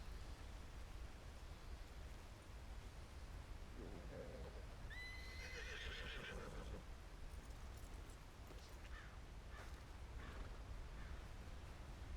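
A horse in the video game Red Dead Redemption 2, near Ambarino, gives a loud drawn-out whinny over steady rushing water-like noise, followed by faint hoof and tack clatter.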